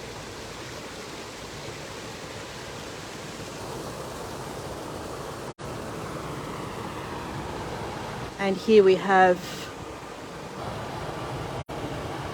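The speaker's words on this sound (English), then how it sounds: "this lovely waterfall" Waterfall in a Japanese garden in Sydney, a steady, close rushing roar of falling water that continues throughout, with someone briefly speaking over it.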